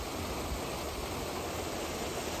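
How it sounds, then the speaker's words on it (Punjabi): Water pours down a waterfall in Meghalaya onto rocks below, making a steady, dense rushing roar with no break. "ਥੱਲੇ ਪਾਣੀ ਇਸ ਤਰ੍ਹਾਂ ਡਿੱਗਦਾ ਇੱਥੇ,"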